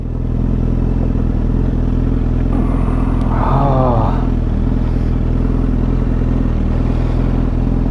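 A Yamaha FZ1n motorcycle rides along on a cold morning, its engine humming as a steady low drone with brief wind and clatter rising midway, no voices.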